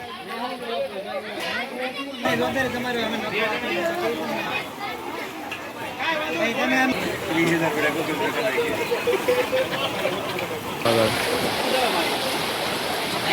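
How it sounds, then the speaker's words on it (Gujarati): Floodwater rushes steadily during torrential rain in Mahuva, a continuous broad wash of flowing water heard close by, with people chattering and calling in the background throughout. "કેટલું પાણી જાય છે"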